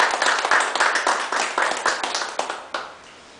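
A church congregation claps to glorify the Lord, a brisk run of rhythmic hand claps that thins out and ends with a final lone clap.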